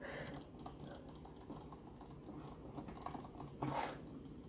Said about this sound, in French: Sinon le clic de la souris...